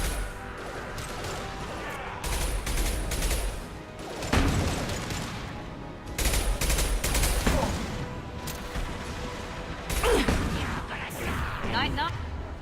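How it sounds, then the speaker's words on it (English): Heavy weapon blasts from an impact shot in Mass Effect 2 boom out in a combat scene, several loud crashing bursts with rumbling tails amid battle noise and game dialogue. "Firing an impact shot."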